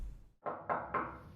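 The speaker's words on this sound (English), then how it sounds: "there came a knock on the door." Three firm knocks land on an office door after a short pause, evenly spaced and close by, with nothing else heard.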